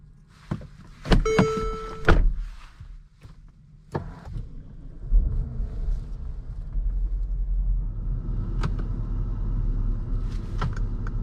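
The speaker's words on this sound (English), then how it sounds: "Maybe I'll try turning the car off and back on" A 2013 Mercedes-Benz GL450 SUV is switched off and restarted from inside the cabin: a few thunks and chimes, a quiet pause, then the engine starts and settles into a steady low idle rumble.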